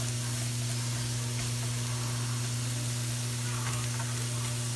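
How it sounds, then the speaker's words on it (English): Cauliflower, onions and zucchini sauteing in a frying pan give a steady, moderate sizzle with a low constant hum underneath and no talking. "I'm just gonna leave this here and let it just saute and cook"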